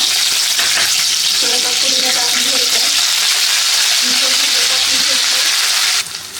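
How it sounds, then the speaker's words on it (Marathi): Onion, green chillies and garlic fry in a pan for a Karnataka vegetable pulao, a loud, steady sizzle with scraping stirs, while someone talks over it. "मी ह्याच्यामध्ये चार मिरच्या अशा मधनं कट करून टाकलेल्या आहेत त्यानंतर त्याच्यामध्ये अर्धी वाटी कांदा घालून घ्यायचा"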